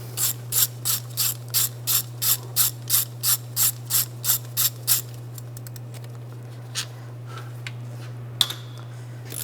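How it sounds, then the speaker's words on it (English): A ratchet fitted with a 10mm socket loosens valve cover bolts on a 2007-2013 Mini Cooper: a steady run of about fourteen sharp, evenly spaced clicking strokes close by, then sparse light clicks over a low steady hum. "Now around the perimeter of the valve cover, take these bolts off. You can use a 10mm socket."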